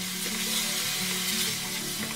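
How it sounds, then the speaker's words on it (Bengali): A large tomato with a little salt fries in a pan, giving a steady, close hiss of sizzling oil that carries evenly throughout with no voices. "আর টমেটোটাকে একটুক্ষণ ভেজে নেব"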